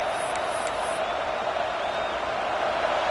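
A dense, steady roar from a large stadium crowd at a South Carolina football game carries on without a break, loud and enveloping throughout.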